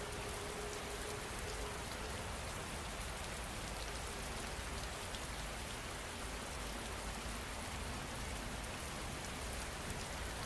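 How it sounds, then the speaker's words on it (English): Heavy rain falling steadily, a dense, even hiss of drops with no breaks, constant and fairly close throughout. "The rain hasn't stopped."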